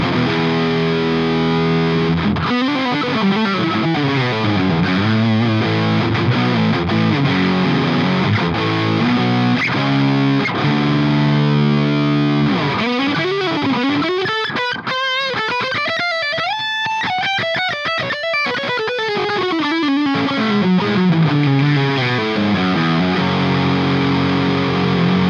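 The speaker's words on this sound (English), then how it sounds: "Let's mess with the distortion first, just so I can show you how much gain's actually on this thing." An electric guitar played through a Yuer Tube Dream distortion pedal at high gain gives thick, saturated chords and sustained bending notes, loud and alone, with a long sweeping lead line in the middle.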